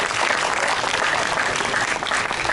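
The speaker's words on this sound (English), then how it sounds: "So huge round of applause for all the delegates of UNGA." Delegates at a Model United Nations closing ceremony burst into a thick, loud wash of applause from a packed hall, sustained and even without any voices over it.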